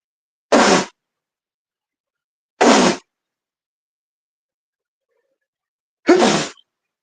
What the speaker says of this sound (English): All that fucking sneezing I did.